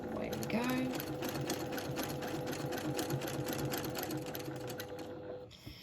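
A sewing machine runs steadily for free-motion quilting along a Westalee ruler, a fast even needle chatter close by that stops near the end, with a voice speaking over it.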